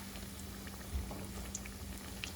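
Salmon croquettes fry in hot oil with a continuous, even sizzle and scattered small pops, steady and close, with no talking over it.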